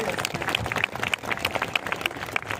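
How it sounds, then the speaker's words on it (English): A crowd claps steadily at a school graduation ceremony in New Delhi, dense applause filling the room, with some voices mixed in underneath. "Parents, big clap for them, and students, you also can clap for your teachers."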